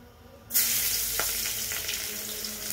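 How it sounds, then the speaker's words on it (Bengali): Chopped onions hit hot oil for a fish and eggplant curry, bursting into a loud, sudden sizzle that holds steady and close, with a few stirring scrapes and no talking. "আর এই যে কেটে রাখা পেঁয়াজগুলো দিয়ে দিই"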